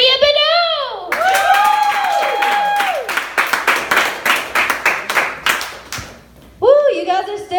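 Audience at a comedy show applauds as the comedian is introduced, a burst of clapping with cheers after a host's voice, then the comedian starts talking over the fading applause.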